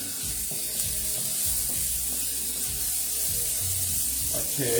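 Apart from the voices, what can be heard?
onions frying and sizzling in a pan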